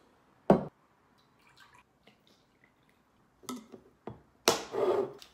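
Half a glass of milk poured into flour for cinnamon roll dough, heard as a few short, soft liquid splashes and spatters in a quiet kitchen, with the longest burst near the end.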